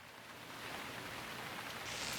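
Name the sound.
rain in the video game Gemini Rue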